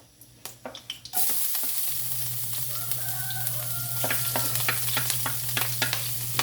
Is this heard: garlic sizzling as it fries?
yes